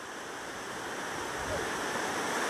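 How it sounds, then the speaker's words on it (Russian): Steady broadband rush of the waterfall in Jermuk, Armenia, heard up close as continuous falling water, with no voices over it. "Самый красивый водопад."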